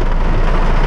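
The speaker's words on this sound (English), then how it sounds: "Now, this is an exceptionally heavy rain. Y'all can hear, right?" Heavy rain drums steadily on the roof and glass of a Mercedes-Benz C200 sedan stuck in traffic, a loud, dense roar heard from inside the cabin.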